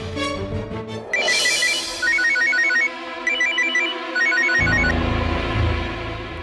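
An old-style telephone bell rings in repeated bursts with short pauses between them. Music and ambient noise play underneath, and no one speaks.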